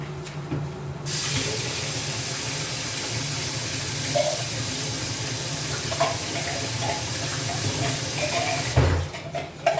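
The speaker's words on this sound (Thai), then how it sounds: "น้ำร้อนใส่หน่อย" Hot water pours steadily into a cooking pot, a continuous rushing splash that starts abruptly and runs for several seconds before tapering into clinks and faint handling noises.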